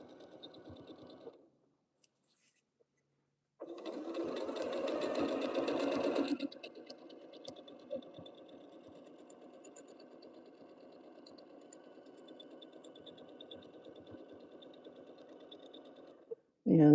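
A sewing machine stitches quilting swirls through a quilt backed with black batting, running at a steady hum for most of the stretch, with a louder, faster burst near the start.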